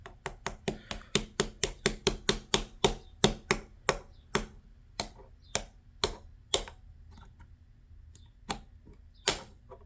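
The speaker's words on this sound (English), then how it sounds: "My little tiny hammer." A tiny hammer taps on parts while a short reset trigger is fitted into a Sig P226 pistol, giving a fast run of crisp, light knocks that slow into sparser, spaced taps, close and fairly quiet.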